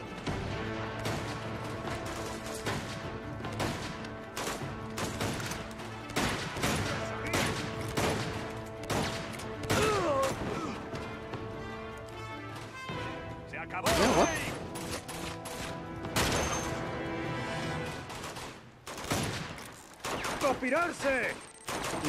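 Heavy gunfire from the action video game Uncharted 2: rapid bursts and single shots crackle in sustained volleys, mixed with crashes and explosion-like booms, loud and continuous for over twenty seconds.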